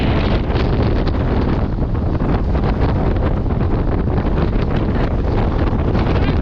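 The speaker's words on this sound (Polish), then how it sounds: "Demonstruję jak wieje!" Strong wind buffets the microphone on an ice-crusted mountain ridge in the Tatra range, a continuous loud roaring rush with constant gusty rumble and no pauses.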